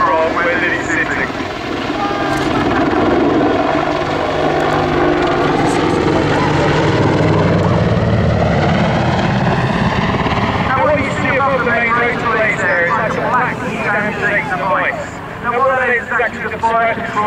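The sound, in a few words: Apache attack helicopter performing nose up and down manoeuvre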